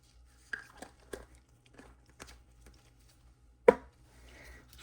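Thin stick scraping and tapping in a cup as white paste is stirred into epoxy resin, a few scattered soft strokes with one sharper knock near the end, fairly close and quiet.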